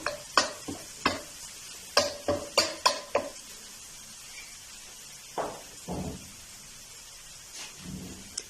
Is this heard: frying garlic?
yes